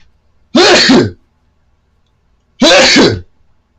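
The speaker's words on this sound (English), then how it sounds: "my sneezes go through" Two loud, close sneezes from a man, each a sharp burst roughly half a second long, separated by about two seconds of near silence.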